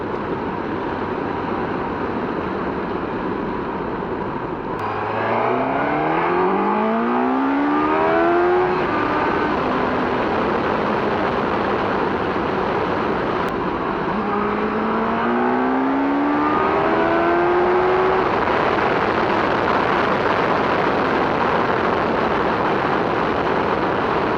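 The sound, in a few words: Suzuki GSX-S1000GT motorcycle being ridden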